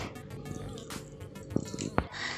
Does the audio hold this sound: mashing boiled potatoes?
yes